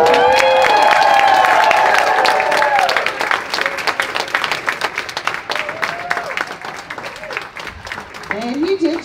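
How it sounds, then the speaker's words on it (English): Graduation audience applauding in a hall, a dense burst of clapping that thins into scattered claps, with a voice speaking over the start and more voices near the end. "why are they going to clap about 2035?"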